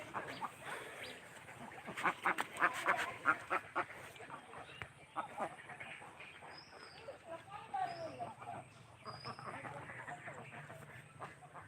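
Ducks on a duck farm quack in scattered bursts, faint and somewhat distant, with some honking calls mixed in while people talk in the background.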